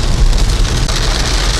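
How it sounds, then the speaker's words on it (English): Heavy rain pouring down at night around 10 p.m., a loud, dense and continuous roar of drops striking surfaces close by, with no talking. "That's a lot of rain."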